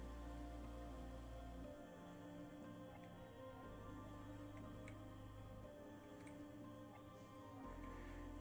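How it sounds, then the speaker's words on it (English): Rain falls indoors inside a base in the video game Space Engineers, a steady soft patter over a low droning hum, continuous and moderately quiet with no one speaking. "And somehow we managed to let the rain inside."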